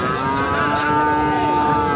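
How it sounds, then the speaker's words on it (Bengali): Cattle at a busy livestock market where a heifer calf is up for sale, with a steady drawn-out lowing sound over constant crowd and market noise for about two seconds. "এটা একটা বকন বাচ্চা।"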